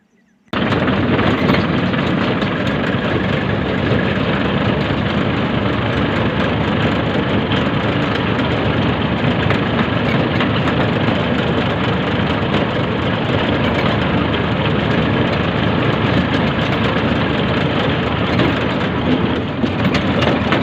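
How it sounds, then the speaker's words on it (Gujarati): A tractor engine starts and runs loudly and steadily, a constant low rumble that continues unchanged with no voices. "આ ટ્રેક્ટર લઈને ઉપડ્યા પાણા ભરવા"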